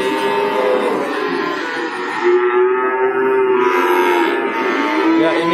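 Female Javanese cattle moo in long, loud, drawn-out calls close by, one sustained low bellow running into another with no pause between them.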